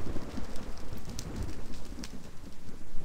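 Steady rain hisses over a dark Minecraft Halloween horror map, with soft low thunder rumbling faintly underneath throughout the short stretch.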